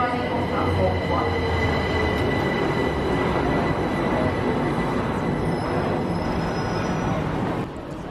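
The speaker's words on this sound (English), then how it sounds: "Train now arriving on platform 1." Great Northern train pulling into a platform at Stevenage station, a loud, continuous rumble of wheels with high squealing brakes, close and steady throughout before easing off at the very end.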